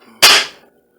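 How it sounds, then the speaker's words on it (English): A single sharp crack of a Gamo Swarm air rifle being fired, close and loud, with a short bright burst that fades within half a second. "Here we're going to shoot it and see what happens."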